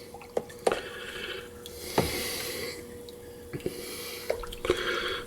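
Cherry wine must being stirred by hand, making wet squishing and sloshing sounds with a few sharp drips and knocks at irregular intervals.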